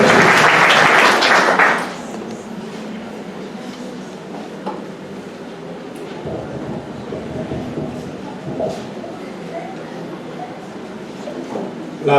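Church congregation applauding, loud dense clapping for about two seconds, then dropping to a quieter room murmur with scattered sounds.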